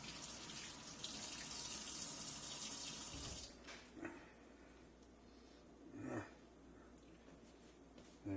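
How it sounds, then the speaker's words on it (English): A kitchen tap runs while hands are washed with soap, a steady hiss of water that briefly cuts off after a few seconds, leaving quieter splashes and faint handling sounds. "I'm going to thoroughly wash my hands here"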